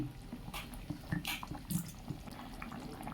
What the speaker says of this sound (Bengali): এইবারে আমি দিয়ে দেবো ডাল বাটার জলটা দিয়ে দেবো সামান্য ঘি